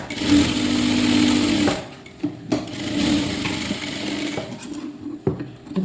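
A sewing machine stitches a blouse front in loud close bursts: a long steady whir, a pause with handling clicks, then shorter runs of stitching.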